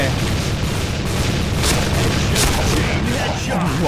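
Dense gunfire and explosive booms from the online shooting game Point Blank, a constant loud roar of overlapping shots filling the whole stretch.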